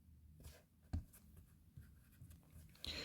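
A pen writes a chemical symbol on paper in a few short, soft scratching strokes, close and faint against a quiet room.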